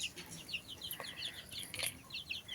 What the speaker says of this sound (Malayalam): കാട്ടിലെ കോഴിയുടെ കുഞ്ഞിനെ